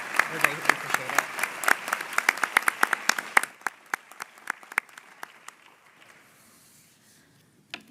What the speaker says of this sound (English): If I could ask everyone to join me in a round of applause to recognize all of the hardworking MSB staff.